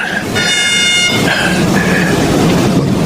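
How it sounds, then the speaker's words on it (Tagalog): A train horn sounds loudly over the rumble of rolling rail cars as a train approaches in a radio drama, the horn blasting in a few short bursts. "parating yung tren."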